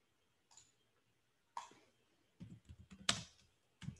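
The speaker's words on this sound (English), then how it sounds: "I'll type that in." Scattered keystrokes on a computer keyboard come in a few short clusters of close, quiet clicks separated by brief pauses, in an otherwise hushed room.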